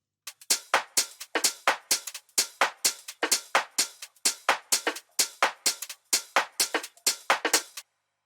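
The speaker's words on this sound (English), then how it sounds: "Altogether, the drums sound like this." A deep house drum loop layers skippy hi-hats, a shaker, rods and a snare drum into a steady groove of crisp, evenly spaced hits. It plays alone at moderate volume and stops cleanly.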